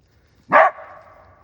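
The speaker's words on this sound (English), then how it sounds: "Two beautiful coyotes." A trapped coyote lets out a single loud, close yelp that trails off into a softer, drawn-out whine, with quiet stillness on either side.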